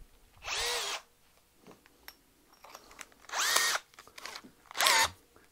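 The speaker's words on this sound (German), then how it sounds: "bohren einmal durch." A power drill whirs in three short bursts, a small bit biting through wood, with quiet handling noises between the runs.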